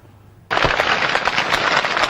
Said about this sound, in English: a heavy gunfire exchange between Somalia National Army and Jubilant forces rends the air